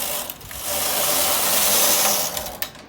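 A knitting machine carriage sweeps across the needle bed knitting a row for a scalloped hem, giving a steady close-up mechanical whir and rattle that swells, holds, then stops with a couple of clicks.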